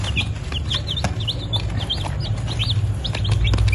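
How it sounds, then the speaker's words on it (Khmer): A brood of chicks feeds, their high peeping chirps repeating rapidly and overlapping close by over a low background rumble, with no talk. "បងប្អូនមើលកូនមាន់ស៊ី"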